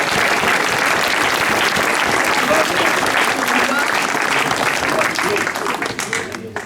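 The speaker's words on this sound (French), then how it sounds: "On applaudit aussi la batterie d'Ajan Marche Saint-Pierre" Sustained, loud applause from an open-air theatre walk crowd fills the air, then thins and fades toward the end.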